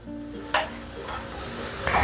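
Bhagar shira is stirred in a pan over a soft sizzle, with a few brief scraping strokes of the spoon against the pan.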